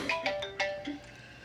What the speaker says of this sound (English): got this old cell phone ringing away